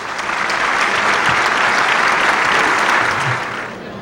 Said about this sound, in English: Now if I could have a nice round of applause for our head table.